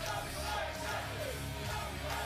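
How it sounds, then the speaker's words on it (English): A wrestling crowd at a WAW Collision Course show in 2014 yells and cheers for Joey Ozbourne, a faint, distant, continuous wash of whoops and shouts. "The WAW fans in attendance are going to cheer for Joey Ozbourne"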